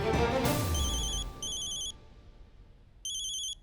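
A telephone rings in a home: after an initial thud, two separate bursts of bright electronic warbling ring about a second and a half apart, clear and fairly loud with no voices.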